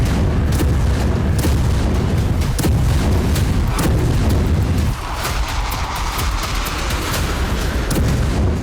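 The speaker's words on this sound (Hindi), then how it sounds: "यूक्रेन ने स्टॉर्म शैडो मिसाइलों से रूसी शहरों में इसी तरह से एक के बाद एक 10 धमाके किए।" Repeated heavy booms from Storm Shadow cruise missile strikes on Russian cities, a rapid series of loud explosive blasts and rumbling detonations in the first five seconds, then a sustained roaring, crackling wash of noise.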